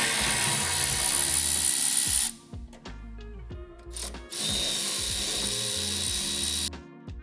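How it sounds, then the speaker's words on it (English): A power driver backs screws out of a Life Fitness treadmill deck with a loud steady whir, then a short run of ratcheting clicks, then the whir returns, close and with no talking. "Next, you remove the deck screws."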